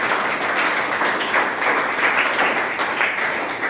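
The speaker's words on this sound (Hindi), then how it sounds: "तो एक जोरदार तालियां आ जाएंगी।" Steady, dense applause from a sizable audience, clapping continuously and evenly throughout without pause.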